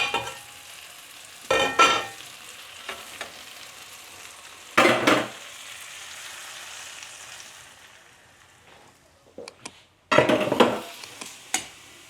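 Paneer and peppers are stirred in a hot pan with a low steady sizzle, several scraping clatters of the spoon against the pan at irregular intervals, close and clear with no talking.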